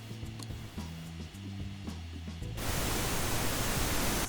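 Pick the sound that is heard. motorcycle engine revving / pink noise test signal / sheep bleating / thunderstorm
pink noise test signal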